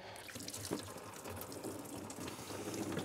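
Engine coolant drains from an undone hose clamp into a catch can during EGR repair work, a steady, continuous trickling and splashing of liquid, fairly quiet with no talking.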